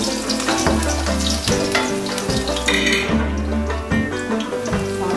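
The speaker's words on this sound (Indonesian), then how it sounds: "dulu kita goreng bawang putihnya ya" Oil sizzles and crackles steadily as garlic fries, with rhythmic scraping and stirring over the pan throughout.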